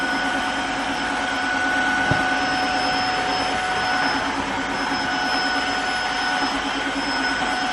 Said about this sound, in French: je vais le mettre en route et vous allez voir, ça va aspirer parfaitement